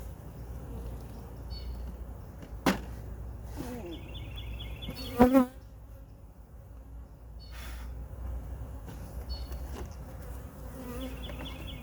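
Honey bees buzz steadily at an open beehive, close by and continuous, broken by a couple of sharp knocks and thumps from handling the hive.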